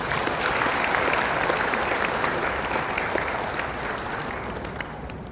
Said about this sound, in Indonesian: Mari tepuk tangan.